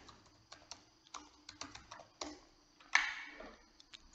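Keys clatter on a computer keyboard as an email address is typed in, a quiet run of separate taps with a few brief pauses and a sharper, louder keystroke near the end.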